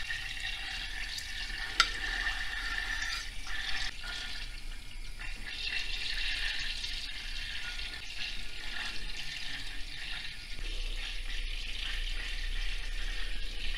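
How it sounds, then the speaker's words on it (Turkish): Boiled potato-filled hingel dumplings being strained, a faint continuous hiss of water draining and trickling with small splashes, steady and quiet from start to finish. "Şimdi şöyle yavaş yavaş suyunu süzdürerek alacağım"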